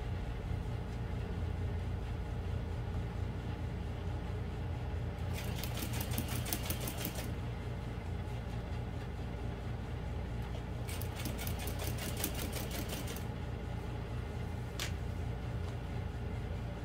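A sewing machine stitches all-vinyl bowler bag material at stitch length 5, running in two bursts of rapid stitching over a steady low hum, then one brief final pulse.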